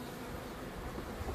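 Honey bees buzz steadily at an open hive while a swarmed colony is being worked, a dense, continuous hum filling the whole stretch with no voices.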